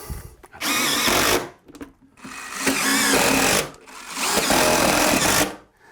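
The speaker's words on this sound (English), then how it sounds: "So I'm just going to push it in and screw right to the existing siding." A power driver sends screws into old wood siding on a house, three loud close whirring bursts of about a second and a half each with short gaps between, no speech.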